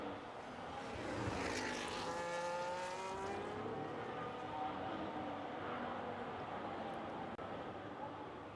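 F1 race cars in an Imola and Monaco racing video game warm their tyres, their engine whine rising and falling in overlapping sweeps at moderate distance under a steady background drone.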